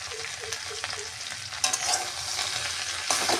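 Water spinach with ground green chilli frying and being stirred in a pan: a steady close sizzle with repeated scraping stir strokes and a few louder clatters of the utensil, no voices.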